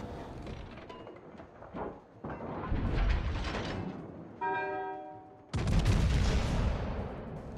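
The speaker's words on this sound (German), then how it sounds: "ich hau gerade auch in den Bismarck gerade Oberpanzer rein mit 406mm Kanonen" Battleship guns of 406mm calibre fire on the Bismarck in the World of Warships naval combat game: several heavy booming blasts with sustained rumbling, separated by a brief mechanical tonal whir, all fairly faint.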